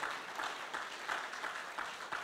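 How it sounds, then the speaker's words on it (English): A church congregation clapping during a worship service, a dense, continuous spread of hands swelling in slight waves, heard at a moderate distance with no voices on top. "Make that clap louder. Make it bigger."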